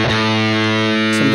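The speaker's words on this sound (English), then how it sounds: "Can we give this some fuzz? It's a bit of distortion." An electric guitar runs through a fuzz distortion effect in the Nembrini Jazz Chorus amp app, holding one thick, buzzing sustained chord that is loud and close, with a brief pick scrape near the end.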